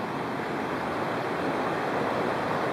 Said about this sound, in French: Et vous avez une série de belles cascades le long de la rivière Boudreaux